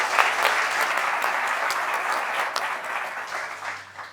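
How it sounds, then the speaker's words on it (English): A roundtable audience on youth health and well-being gives the panelists a sustained round of applause, steady dense clapping for the whole stretch that tapers slightly toward the end. "Let's give them a round of applause."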